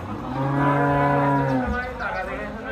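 A cow moos in one long, loud, sustained low call that falls off near the end, heard alone close by at a Bangladeshi cattle collection.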